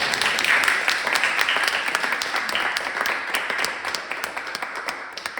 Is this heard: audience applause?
yes